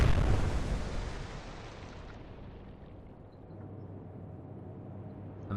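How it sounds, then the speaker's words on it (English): A torpedo strikes a battleship in the Atlantic Fleet naval video game, opening with a heavy explosive boom that decays into a long, low rumbling tail. "she's reversed into our torpedo"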